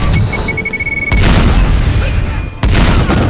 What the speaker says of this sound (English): That was an exploding bicycle kick!